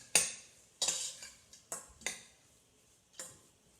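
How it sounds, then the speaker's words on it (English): Onions, spices and butter are stirred in a pan for a simple chicken curry: a utensil clinks and taps against the metal about six times in an irregular rhythm, close and fairly quiet. "Now the key here is to keep mixing so your onions don't burn."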